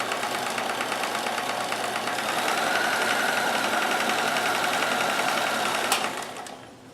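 A sewing machine runs a multi-point zig-zag stitch over a tall fabric hump while repairing clothing, with a steady close mechanical whirr and rapid stitching rhythm that holds for about six seconds before stopping abruptly.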